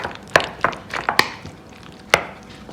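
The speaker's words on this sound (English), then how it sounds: "So you just want to keep chopping, mixing." Knife chopping and mixing guacamole ingredients (onions, tomatoes, salt and pepper) in a bowl, a series of sharp irregular thuds and scrapes, close and fairly loud with no talking.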